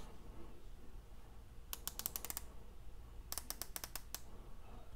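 Crisp ratcheting clicks from the bronze bezel of a Rado Captain Cook automatic watch, 120-click type, turned in two quick bursts of close, sharp clicks separated by a short pause.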